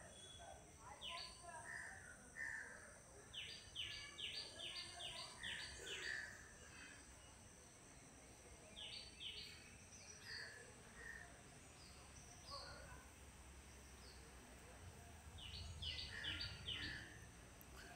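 Small birds chirp and twitter in short bursts on a quiet, green college campus in Pune, the calls faint and spaced out over a soft background hush.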